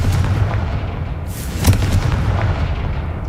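A Confringo explosive spell cast in the game Hogwarts Legacy, heard as a deep rumbling blast with a sharp burst near the middle over steady low game rumble, with no talk.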